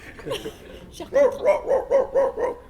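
A man imitates a Saint Bernard barking in the mountain pastures, giving five rhythmic, deep woofs right after a short spoken phrase, close and clear.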